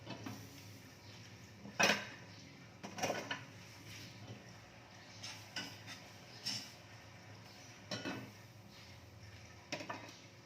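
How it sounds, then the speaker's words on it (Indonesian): Chili paste being ground in a stone mortar for a Dayak Ngaju dish: intermittent knocking and scraping strikes of stone on stone, with a few sharper clacks among softer rubbing, close by and moderately quiet. "Kita ulek terus, ya."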